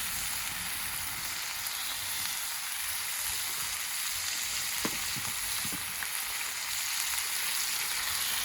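Spices with turmeric and salt fry in hot oil in a pan, giving a steady close sizzle with a few soft stirring clicks.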